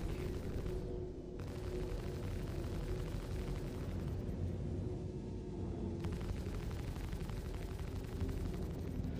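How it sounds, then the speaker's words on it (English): Missiles launching and detonating during Star Citizen combat, heard as a sustained roaring rumble with a few sharper bursts and muffled booms, loud and continuous throughout. "Missiles are off."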